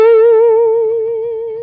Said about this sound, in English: Vibrato is characterized as this kind of warbling of sound.